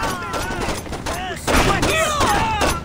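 Gunshots in a Saints Row game, a burst of rapid shots under someone talking over them, close and loud.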